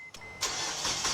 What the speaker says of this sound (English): Hooray, the car still turns on.